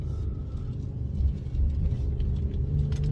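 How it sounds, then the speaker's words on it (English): A 2017-2020 Honda Ridgeline with a dual exhaust and secondary muffler in quiet mode drones steadily at low pitch, a moderate, sporty rumble that holds level with a slight surge midway. "it's in the quiet mode right now, where it makes a nice sporty sound, more sound than stock for sure"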